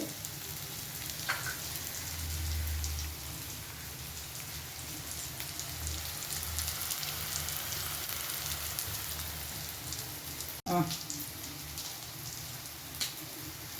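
Onions sautéing in a pan until golden brown for a prawn thokku, a continuous quiet hiss of sizzling oil throughout with a sudden sharp clatter of a utensil late on.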